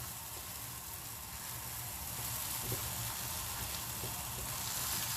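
Lamb shami kebabs fry in a pan with a steady, even sizzle and hiss, close and continuous with no pauses and no talking.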